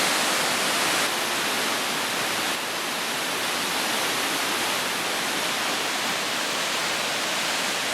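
The Traunfall waterfall rushes in the morning with a loud, steady, broadband roar of falling water that carries on unbroken throughout, with no voices.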